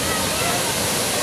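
Water gushing from a burst main pipeline in Powai, Mumbai, a loud steady roaring rush like a waterfall, filling the whole short stretch without pause.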